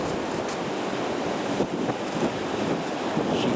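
Sea waves crash on the shore at Blackpool in a steady broadband wash. Wind buffets the microphone throughout, and no one speaks.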